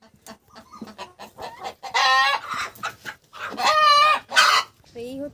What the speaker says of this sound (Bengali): এই মুরগিগুলো প্রচুর ওজন হয়, এইগুলোকে বলা হয় রোডাইল মুরগি।